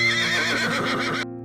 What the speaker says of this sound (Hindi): घोड़े ने अपने स्वामी के पांवों की चाप को पहचान लिया और जोर से हिनहिनाया।